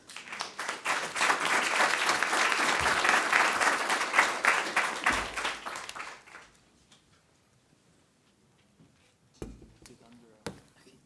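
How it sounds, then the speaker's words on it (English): An audience at a housing conference session applauds the panel as it takes its seats, a full, even round of clapping for about six seconds that fades out, followed by near quiet with a few sharp knocks. "Shall we give them a round of applause?"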